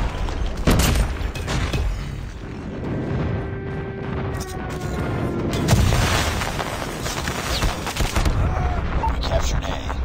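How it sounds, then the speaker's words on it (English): Booming airstrike explosions and scattered gunfire roll through a Call of Duty Mobile ranked multiplayer match, loud and dense throughout, with in-game voice callouts layered over the blasts. "Friendly airstrike is coming."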